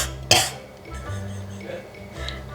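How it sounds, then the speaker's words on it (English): A single short, sharp cough close by, followed by quiet talk and faint clinks of kitchen dishes. "I just randomly cough."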